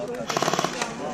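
Airsoft guns fire outdoors in a quick, evenly spaced volley of about half a dozen sharp pops, with one more pop just after, over a steady background noise.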